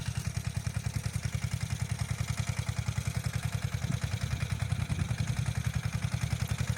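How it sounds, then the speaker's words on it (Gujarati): A small tractor engine running while being driven on a farm, a fast steady low chugging pulse with a rattly clatter on top, close and continuous throughout with no talk. "જો અમારા ભાઈ છે ટ્રેક્ટર આંકતા આંકતા હલાવે છે"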